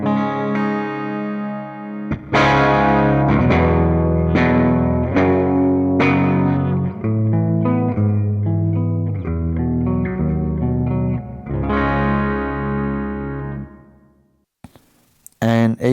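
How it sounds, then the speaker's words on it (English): An electric guitar played through a Donner Hush X Pro practice amp preset with amp modelling and extra reverb rings out in clean strummed and picked chords that decay into a reverb tail before a brief silence. "And now A2 has extra reverb."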